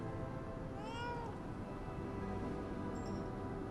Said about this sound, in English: If you guys get beaten a lot, you can come and pet the kitty.